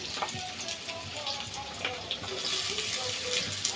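Chopped onion and carrot sizzle together in a hot oiled pan, a steady hissing fry heard close up with faint tonal background sounds.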